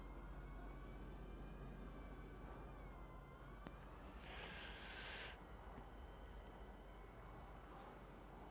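A train in the Star Citizen space game gives a steady low rumble throughout, broken by a hissing burst midway, with a faint rising tone over the hum and no voices.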